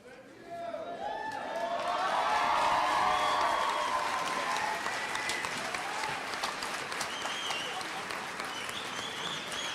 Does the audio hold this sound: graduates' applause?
yes